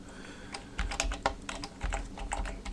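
Rapid keystrokes on a computer keyboard while entering HTML5 code, a steady run of sharp, close clicks in short irregular bursts, fairly quiet with a low room hum and no talking.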